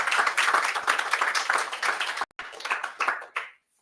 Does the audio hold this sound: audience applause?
yes